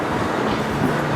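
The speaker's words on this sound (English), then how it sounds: "This is our next train now here." A train rolls into Bletchley station with a steady low rumble of wheels and motors, a short, fairly loud stretch with no voices.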